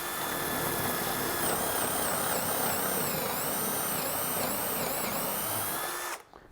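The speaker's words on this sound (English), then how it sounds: "Now this will keep that drill bit straight." An electric drill bores into a thin strip of wood held in a jig, whining steadily at close range for about six seconds, its pitch wavering slightly, then cuts off abruptly.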